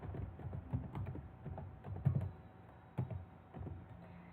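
Typing on a computer keyboard while entering text into a numbered list in Microsoft Word, with quiet, irregular key clicks and a few firmer taps, close up and with no talking.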